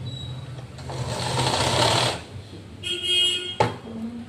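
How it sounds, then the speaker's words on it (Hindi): Sewing machine stitching a lined blouse with a patti border, running in a steady burst for about two seconds, then a shorter run after a pause, with a sharp click near the end. "जितने इंच पे उतने इंच पर यहाँ सिलाई लगानी है"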